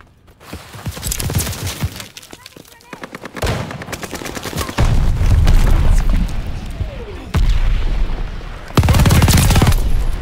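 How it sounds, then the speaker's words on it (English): Call of Duty: Vanguard battle with mortar shells and gunfire, rapid machine-gun bursts and loud booming explosions landing close in heavy succession, with shouted voices faintly underneath. "They're sending mortar shells!"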